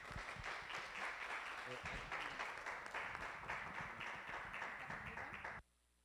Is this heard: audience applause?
yes